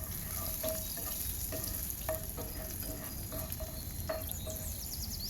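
Garlic frying in hot oil for a stir-fry, a soft continuous sizzle with intermittent clicks of a spatula stirring, steady and close with no voices.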